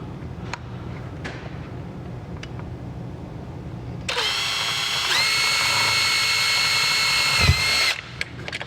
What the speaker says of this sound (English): So I drilled that one.